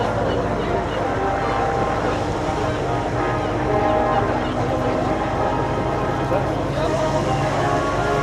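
A steady engine drone from a Hawker Hurricane, the last one built, in July 1944, flying past at an airshow at Eastbourne, heard continuously under a commentator's voice.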